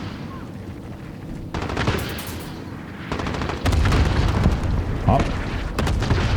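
Friendly cluster strike in a Modern Warfare match: a rapid string of loud booming explosions and crackling gunfire-like blasts, layered over one another, with a brief exclamation from a player.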